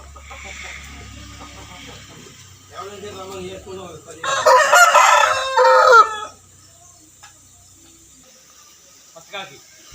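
A fighting rooster crows loudly and close by, one long strained call, with softer clucking and faint background sounds before and after.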